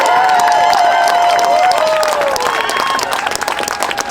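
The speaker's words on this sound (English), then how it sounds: "Can we give a huge round of applause back there to Marsha Howard," Crowd applause and cheering at a union rally in Minneapolis for Marsha Howard and the teachers, sustained loud clapping with whistles and shouted voices over it, easing slightly toward the end.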